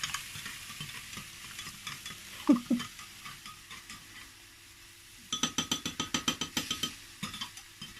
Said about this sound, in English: So mix it all in.